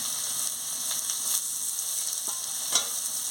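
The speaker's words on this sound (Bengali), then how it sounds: "পেঁয়াজ দিয়ে ভালো করে আলু আর বেগুনের সঙ্গে ভেজে নিচ্ছি" Onion frying with potato and eggplant in a pan gives a continuous sizzle and faint stirring scrapes, with a couple of small clinks near the end and no talking.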